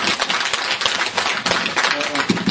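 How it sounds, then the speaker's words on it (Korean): An audience at a public lecture applauds a student accompanist with steady, dense clapping from many hands, while voices carry on underneath. "학생한테 큰 박수 좀 부탁합니다"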